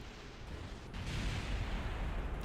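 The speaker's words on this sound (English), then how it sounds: "we got explosions" Explosions in Kerbal Space Program rumble out as a muffled, low boom that swells about a second in and stays as a rolling roar to the end.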